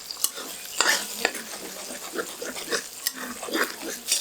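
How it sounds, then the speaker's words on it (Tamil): Scrambled eggs seasoned with pepper and salt being stirred and fried in a pan, a soft continuous sizzle broken by repeated scraping and spatula taps, close and moderately quiet. "இது ரொம்ப பொரியல் மாதிரி கொத்திடாமல் கொஞ்சம் அந்த ஸ்கிராம்பிள்ட் எக்ஸ் மாதிரி எடுத்துடலாம்"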